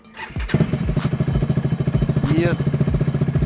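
A motorcycle with an aftermarket exhaust revs hard and runs rough, with a loud, rapid, pulsing exhaust rhythm up close.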